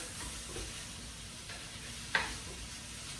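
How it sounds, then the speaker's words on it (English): Chicken chop suey with celery is stir-fried in a thin pan, producing a faint, steady sizzle with light stirring scrapes and one brief metallic clink. "Keep stirring."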